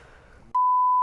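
A loud, steady censor beep cuts in sharply halfway through, a single sustained electronic tone that follows a stretch of quiet background noise and holds to the end.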